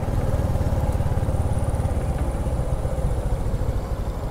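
A motorcycle engine idles nearby in a city park in Ligao City, Albay, Philippines, with a steady low rhythmic putter, holding an even pace throughout.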